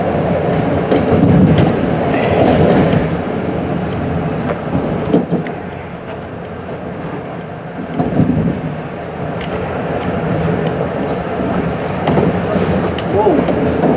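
A Metro-North railroad train runs on tracks toward New York City, heard from inside the cab as a loud, continuous rumble with clickety-clack over switches, swelling and easing throughout.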